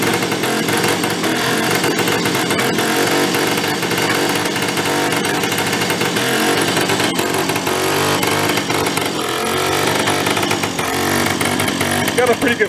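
A small scooter engine runs continuously as its fuel runs low, giving a steady buzzing drone that stays loud throughout while a person talks over it.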